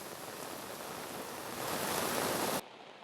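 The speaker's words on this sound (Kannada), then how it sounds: "ಕರಾವಳಿ ಜಿಲ್ಲೆ ಉಡುಪಿಯಲ್ಲಿ ರಣ ಮಳೆ ಸುರಿಯುತ್ತಿದೆ." Heavy monsoon rain pours down in coastal Udupi as a dense, steady roar that swells slightly louder midway, then cuts off abruptly near the end, leaving only faint background hiss.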